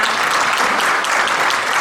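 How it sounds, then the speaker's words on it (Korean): Steady applause from a crowd at the opening ceremony of a defense safety symposium, continuous dense clapping throughout with no pauses, moderately loud. "박수 부탁드립니다."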